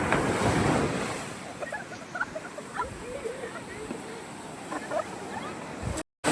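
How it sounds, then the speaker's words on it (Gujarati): Big waves on a stormy sea crash and wash in a loud, continuous roar with wind buffeting the microphone; faint voices are heard beneath the surf, and the sound drops out briefly near the end. "મોટા લોટ થાય છે આજ તોફાન દરિયો છે"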